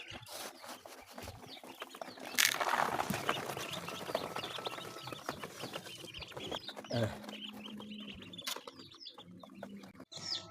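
Ten-day-old chicks cluck and cheep busily while pecking at feed, a dense, faint chorus of small calls and scratchy pecking, close by and without talk.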